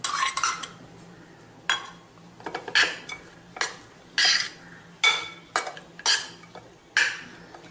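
Grated coconut stirred in a pan for sweet modak filling, with repeated clinking scrapes of a metal spoon against the pan in a steady rhythm of about ten loud strokes.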